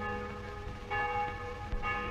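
Church bells ring in a steady, resonant peal, with overlapping tolls sustaining throughout a short stretch and no voices present.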